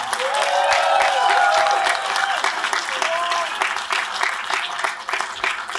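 A live audience at a hacker conference claps and cheers together, loud and close, with a dense burst of hands that gradually thins out, while a few voices call out and whoop within it.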